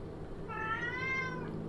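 A cat meows once in the Call of Cthulhu video game, a short, clear, rising-and-falling cry over a quiet ambient background.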